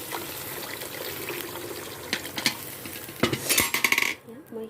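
Water poured into a cooking pot while making an Assamese curry with thekera tenga, a soft trickling pour under light clinks of utensils against the pot, ending in a burst of rattling taps before falling quiet.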